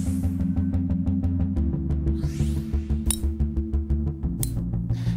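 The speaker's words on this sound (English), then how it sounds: "That is the sound of two of the top-selling game improvement irons on the market that are" Golf balls struck by cast game improvement irons, a rapid series of bright clinking, metallic impacts that come steadily one after another over continuous ringing tones.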